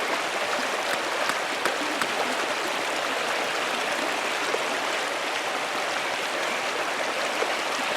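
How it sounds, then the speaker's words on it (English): A waterfall fed by mountain snowmelt near an abbey in the video game Pentiment, a steady broadband rush of falling water that stays even and continuous from start to finish with no voices. "The waterfall must flow down from the snow melt in the mountains above the abbey."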